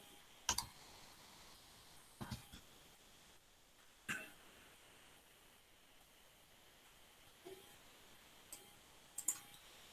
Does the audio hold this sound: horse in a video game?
no